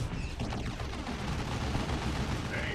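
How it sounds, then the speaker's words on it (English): Plasma cannon fire in the Warhammer 40,000: Dawn of War 2 strategy game, a Space Marines versus Orks battle, forms a dense, continuous roar of booming shots and explosions with no pauses. "Plasma Cannon's going to get some decent hits here"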